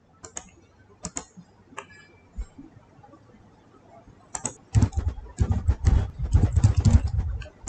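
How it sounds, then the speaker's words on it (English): Keys clatter on a computer keyboard as dummy data is typed into a text file, starting as sparse isolated taps and then building into a dense, fast run of close, crisp keystrokes. "I have typed in some dummy data here."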